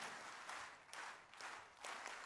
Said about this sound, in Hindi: जब तक आप मंच पर आएंगे जब तक ये तालियां बजती रहेगी।